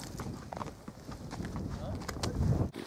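Horses walking downhill on a hunting trip, their hooves clip-clopping in an uneven rhythm at close range while people talk over them.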